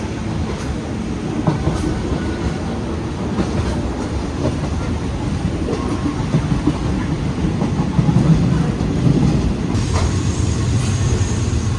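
Continuous low rumble and rattling of a Thai train on the Bangkok river line toward Khlong Toei port, rolling along rails, steady and fairly loud throughout with occasional clanks.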